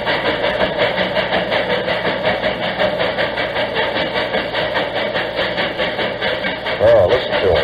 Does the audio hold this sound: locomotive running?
yes